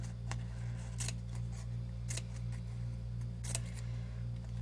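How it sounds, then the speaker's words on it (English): Scissors snip paper in repeated crisp cuts, spaced irregularly, as an alien plant craft is trimmed into a fern-like shape, close and clear over a steady low electrical hum. "you're gonna take your scissors all the way around and give it kind of that fernish look"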